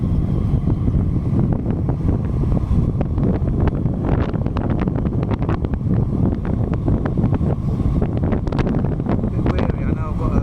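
Heavy wind roars and buffets across the microphone while a cyclist pedals uphill toward Tann Inn, loud and constant throughout with gusty crackling and no break.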